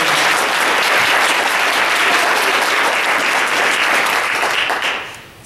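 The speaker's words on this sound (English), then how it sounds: "So round of applause, please." Loud, continuous audience applause at a luncheon keynote, dense clapping that holds steady before fading quickly at the very end.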